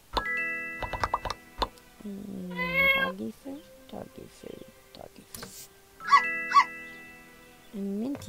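A cat meows in the farming life-sim game My Time At Portia, with a few short, close meows mixed with dog whimpers and barks amid game sounds and scattered interface clicks.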